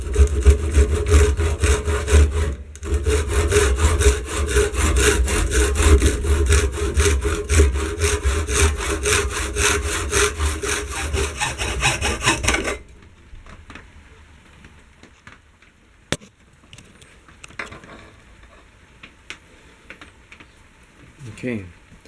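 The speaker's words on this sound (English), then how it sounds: "I'll cut the head off just here" A hand saw cuts through a wooden axe handle near the head in rapid, rhythmic back-and-forth strokes for about thirteen seconds, loud and close, then stops, leaving quiet handling noises.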